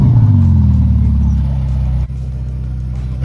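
A Ferrari's engine revs through its exhaust up close, a loud deep roar that falls away, then settles into a steady rumble after a brief dip.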